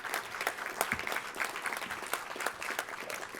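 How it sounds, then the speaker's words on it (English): A dinner crowd with a state legislative Jewish caucus applauds its former caucus chair, Mark Levine; quiet, somewhat distant clapping from many people, dense and continuous for a few seconds. "give Mark a round of applause"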